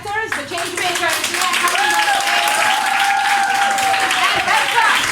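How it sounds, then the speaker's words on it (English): An audience applauding amateur actors after a newspaper theatre performance in Hungary; steady, dense clapping fills the room while a voice carries on speaking over it. "Let's applaud our amateur actors, the change makers."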